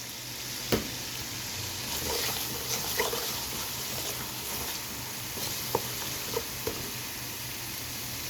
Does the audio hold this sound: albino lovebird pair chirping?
no